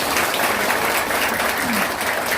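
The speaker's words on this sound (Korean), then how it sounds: "박수 한번 합시다" A crowd breaks into loud, sustained applause, a thick, continuous clatter of many hands clapping close by.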